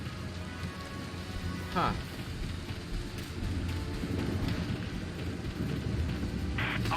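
Steady rain pours down in a stormy scene from Valkyria Chronicles 4, a dense hiss with a dull rumble of thunder underneath, broken once by a short voice.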